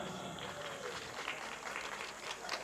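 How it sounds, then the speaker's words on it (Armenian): Audience applause at a municipal event in Vayk, Armenia: steady, dense clapping from a seated crowd that fills the whole stretch at moderate loudness, with no pauses. "եկեք ծափահարենք նրան"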